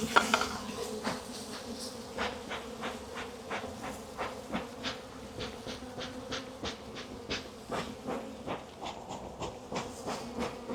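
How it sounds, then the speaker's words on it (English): Angry honeybees swarm and buzz around a queenless hive in a dense, continuous drone, with sharper passes of individual bees darting close in a steady rhythm throughout. "Now any hive without a queen is going to be angry."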